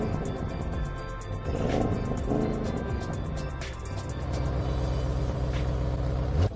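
An Audi RS7's engine roars loudly and continuously, close up, rising and falling as the revs change, with a deep rumble throughout and a short burst near the end.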